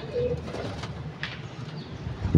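Pigeons in a rooftop loft coo softly and repeatedly at close range, with low rumbling calls over faint background noise and a sharp bump near the end.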